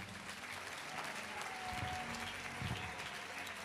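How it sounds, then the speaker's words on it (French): A church congregation applauds loudly and steadily, a dense wash of clapping from a large crowd that carries on throughout with a few scattered voices rising within it. "Acclame très fort pour le roi"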